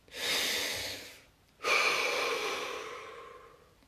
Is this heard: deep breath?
yes